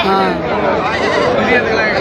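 A goat bleats loudly and continuously at the busy Samayapuram livestock market, its wavering cry close by while people talk around it.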